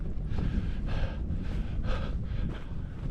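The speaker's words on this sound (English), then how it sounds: "The wind's picking up" Gusty wind buffets the microphone on a mountain hike in the Cooley mountains, coming in close, rough bursts over a constant low rumble.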